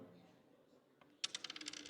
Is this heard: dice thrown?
yes